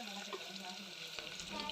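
Urad dal roasting in hot oil, a soft, steady sizzle with faint crackles, quiet and continuous, with a small clack near the end.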